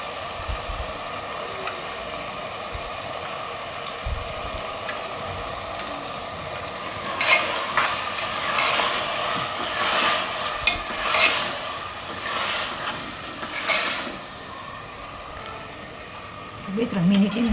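Potatoes for sama khichdi stir and fry in a pan, a soft steady sizzle with louder scraping stirs in bursts toward the end, quiet and close.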